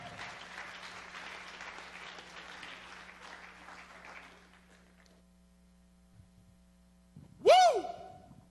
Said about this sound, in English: Clap your hand to the Lord